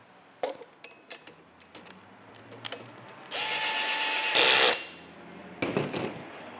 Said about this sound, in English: We need to tighten up this bolt.